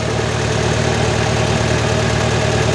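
Car engine idling steadily with the battery positive cable disconnected, a continuous loud, even hum with a faint rhythmic pulse and no talking.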